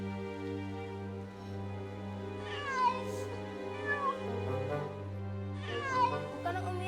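A cat meows several times, drawn-out rising and falling cries spread across the clip, heard over a steady low background hum with little talk.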